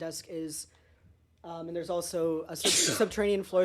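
A sneeze bursts out amid a group talking around a tabletop role-playing session, a sharp noisy blast cutting between spoken lines, with voices continuing right after.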